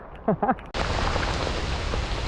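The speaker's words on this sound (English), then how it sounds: "A few innocent raindrops turned into a proper shower within minutes." A rain shower on the coastal Fishermen's Trail in January starts with a brief voice-like sound, then becomes a sudden steady hiss of heavy rain that fills the rest of the clip at close, loud level.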